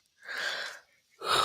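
A person yawns twice in quick succession, each a breathy, drawn-out exhale, the first longer and the second cut short, close to the microphone with no talking.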